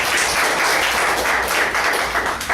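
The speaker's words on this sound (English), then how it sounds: "Let's give her a big round of applause." Close, loud audience applause at a Toastmasters club meeting after a spelling answer, a brief dense burst of many hands clapping at once without a pause.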